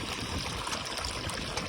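Water flows steadily over the riffles of a gold sluice box, a soft, even rushing and trickling that stays faint and unbroken throughout, with no voices.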